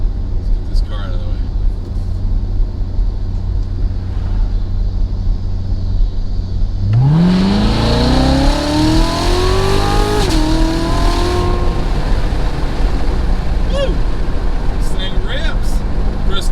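A Chevrolet C8 Corvette accelerates hard with the window down, its engine note climbing steeply through the gears in a loud, rising roar over steady cabin and road noise.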